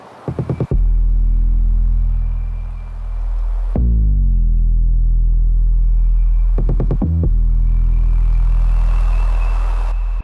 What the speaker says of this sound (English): I got the same 808, but I got them panned